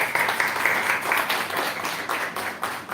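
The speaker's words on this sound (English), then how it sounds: "So we should give big clap to our leadership, Prime Minister Modi." An audience at a seminar claps together for a few seconds in a fairly dense, steady round of applause, heard somewhat distantly in a hall.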